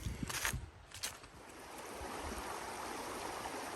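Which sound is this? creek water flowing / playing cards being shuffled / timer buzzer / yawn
creek water flowing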